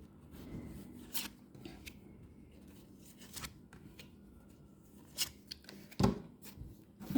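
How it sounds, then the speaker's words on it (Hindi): Tarot cards are drawn from a deck and shuffled, giving soft rubbing and brushing sounds with a few sharper flicks and snaps of card stock, close and fairly quiet. "मैं थोड़े से और कार्ड्स निकाल लेती हूँ"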